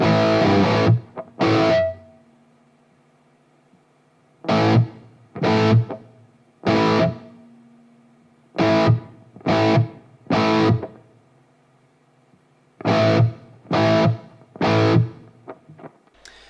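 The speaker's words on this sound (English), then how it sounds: "having the tone higher, which will give you kind of a splashier and brighter type of reverb" An electric guitar through a reverb pedal with its tone set high gives bright, splashy chord stabs, played alone in short groups of two or three, each ringing briefly before silence.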